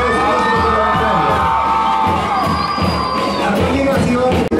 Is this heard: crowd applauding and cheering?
yes